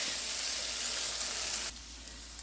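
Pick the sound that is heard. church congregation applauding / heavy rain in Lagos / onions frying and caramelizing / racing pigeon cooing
onions frying and caramelizing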